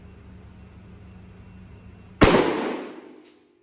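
After a quiet stretch, a single loud shotgun blast of birdshot cracks out from 20 meters at tactical glasses, its sharp report trailing off in a short ringing decay.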